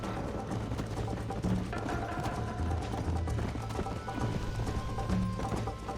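Rapid galloping hoofbeats in Red Dead Redemption run continuously under a dense, busy background, with a brief whinny-like tone rising now and then.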